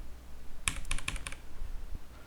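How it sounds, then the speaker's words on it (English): A few quick clicks of keys pressed on a computer keyboard, repeated here as an Alt F4 shortcut to bring up the Windows shutdown dialog, in a close burst of about five taps, then quiet. "if you keep pressing Alt F4 you will eventually get this shutdown"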